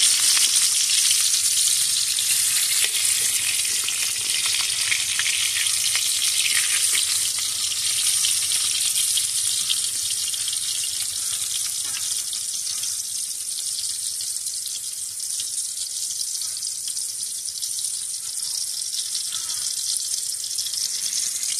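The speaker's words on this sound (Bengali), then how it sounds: "এ পাশটা লাল করে ভাজা হয়ে গেছে, এখন এ পাশ এভাবে লাল করে ভেজে নেব।" Pointed gourd (potol) slices frying in a pan after being turned over, a loud, dense, unbroken hiss of hot oil holding steady for over twenty seconds with only faint occasional scrapes and no voices.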